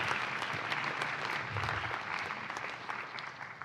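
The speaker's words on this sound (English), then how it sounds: "Big round of applause for Professor Chen." Audience at a university awards ceremony claps warmly, a dense, steady round of applause from a moderately sized crowd that tapers slightly toward the end.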